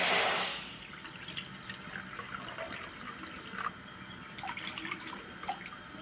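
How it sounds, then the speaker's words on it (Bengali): Water pours from a measuring bowl into a karai set on a gas stove for semolina roti: a brief louder splash, then a steady, moderate stream of pouring and trickling. "কড়ার মধ্যে দিয়ে দেব এই বাটিতে করে মেপে দুই বাটি জল"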